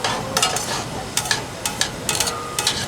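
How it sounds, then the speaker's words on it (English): Oil and garlic sizzle in a pan for aglio e olio in a rolling kitchen, a steady near fry with bright crackling bursts that recur every half second or so. "so we got some sizzle happening here"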